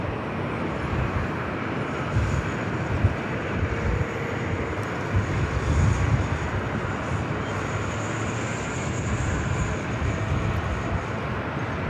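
A Southwest Airlines Boeing 737 MAX 8 arriving at Los Angeles International Airport from Kansas City, a continuous low engine rumble with a faint high whine, moderately distant and alone without speech.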